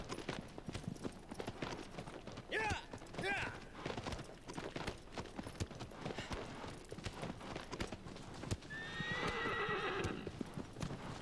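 Hooves clip-clop steadily as a horse gallops in the video game Shadow of the Colossus, with a loud neigh near the end over background game sound.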